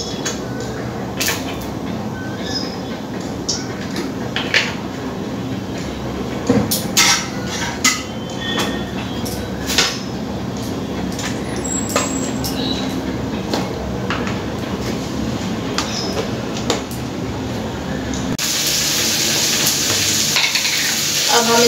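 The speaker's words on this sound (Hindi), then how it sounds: "कढ़ाई गरम हो गया है, अब हम तेल डालेंगे इसमें।" Oil sizzles in a hot kadhai with a continuous frying hiss, punctuated by scattered clinks and scrapes, growing louder and brighter toward the end.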